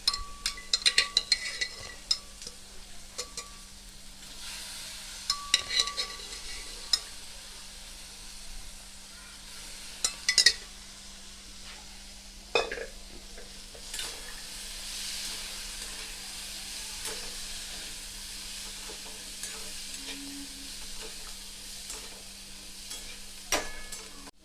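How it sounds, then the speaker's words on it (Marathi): Boiled chickpeas are sautéed in a pan for a sprouts salad, giving a faint, steady sizzle with occasional sharp clinks of a utensil scraping the pan. "आता बघा हे आपले हरभरे परतून झाले"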